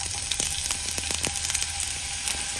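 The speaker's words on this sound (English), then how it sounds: "We're going to go ahead and add some onion." Onion sizzles in warm oil in a pan while refried beans are being made, a steady, moderate crackling with a few sharper pops scattered through it, and no voices.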